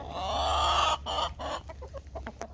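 A Silkie chicken in a backyard coop clucks close by, one drawn-out call followed by a rapid series of short clucks.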